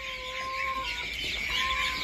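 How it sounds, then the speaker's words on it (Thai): Many young laying-hen chicks cheep in a dense, continuous chorus of high peeps from a large flock, steady and moderately near. "อัปเดตลูกไก่ไข่กันหน่อยครับ"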